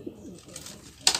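Pigeons coo softly in a pigeon loft, low murmuring calls with a brief brighter burst near the end and faint background noise.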